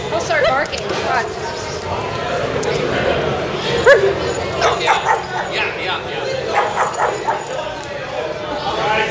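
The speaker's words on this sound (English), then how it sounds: "He'll start barking." A dog gives short yips and whimpering barks amid a noisy crowd at a furry convention, with people talking and laughing close by throughout.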